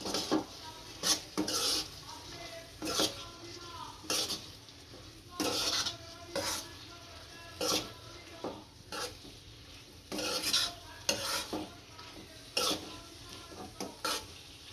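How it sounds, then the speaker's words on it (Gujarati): Okra being stirred into a cooked masala in a pan, with a spoon scraping and clinking against the metal in repeated bursts over a soft background sizzle, close and fairly quiet, no talking. "આની અંદર હું ભીંડો નાખશું આ ભીંડો ભેળવી દઈશું આમાં"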